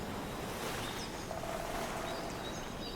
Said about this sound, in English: you listen to the waves.